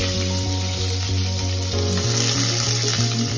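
A large onion sizzles in hot oil in a kadai, a steady close crackle and hiss with faint kitchen clatter running underneath and no talking.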